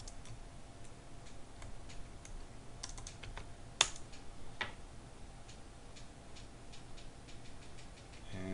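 Quick, light keystrokes tap on a computer keyboard in scattered bursts, faint and close, with one sharper key click partway through and no voice.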